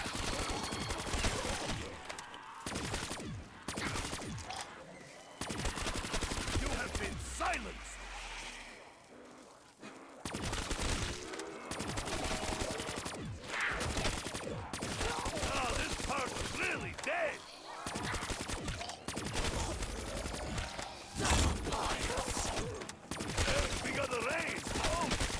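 Rapid bursts of gunfire fill a Call of Duty Zombies round on the Shangri La map, near-constant volleys with brief gaps, loud and dense alongside game effects and occasional voice.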